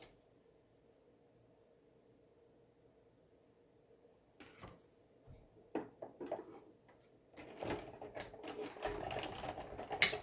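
A die-cutting machine runs a foam tape heart through, giving irregular mechanical clicks and rattling that start quietly midway and grow louder and busier toward the end.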